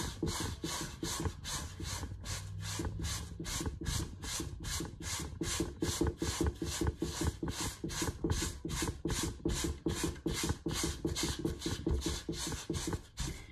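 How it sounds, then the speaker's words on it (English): A cotton cloth pad bunched up and wiped in circular motions across a scratched acrylic drypoint etching plate makes fast, rhythmic rubbing strokes, close and steady, repeating many times in an even scrubbing pulse. "just make these circular motions and wipe your plate neat"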